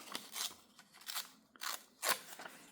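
A piece of paper card from a check breakdown being ripped off by hand, heard as a few short, close crisp tearing bursts separated by brief pauses, quiet and alone.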